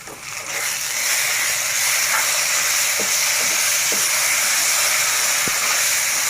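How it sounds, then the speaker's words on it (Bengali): Spices with salt and turmeric fry for beef curry in a pan on low heat, giving a steady, close, loud sizzle and hiss with a few faint clicks of stirring and no talk. "চুলার কম জালে আমি মশলাটা এইভাবে কষিয়ে নেব।"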